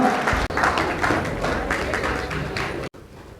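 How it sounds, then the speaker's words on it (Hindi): An outdoor crowd at a Vishwakarma Jayanti procession applauds as a chief guest is honoured with a garland and shawl. The busy, close clapping is mixed with thumps and taps and cuts off abruptly near the end. "तालियों में कमी नहीं आनी चाहिए भाई साहब"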